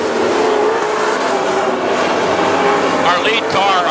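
WISSOTA Super Stock race cars thunder around the Princeton Speedway oval, a dense, loud, continuous engine roar with a pass sweeping by near the end, while an announcer talks over it.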